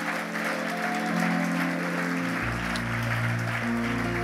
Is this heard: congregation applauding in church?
yes